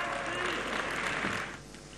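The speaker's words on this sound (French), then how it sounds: "Quelques sifflets dans la salle, mais aussi de nombreux applaudissements." Applause in a hall after a FIFA presidential election, a dense wash of clapping from a large crowd, loud and sustained before tapering off, with speech underneath.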